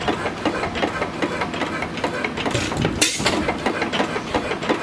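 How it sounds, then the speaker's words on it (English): A small engine runs nearby with a fast, rattling, uneven chug and a sharp backfire pop partway through. "It's a pretty good little engine."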